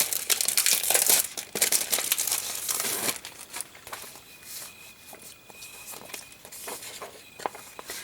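Easter sticker sheets, some clear, crinkle and rustle as they are handled for a spring journal craft. The crinkling is loud and busy for about three seconds, then drops to quieter, scattered handling noises.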